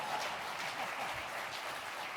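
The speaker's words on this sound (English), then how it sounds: "Somebody give applause for Ultimate Health Services here." Audience applause at an annual tribute dinner, a steady, even wash of many hands clapping at low level throughout, with no voices over it.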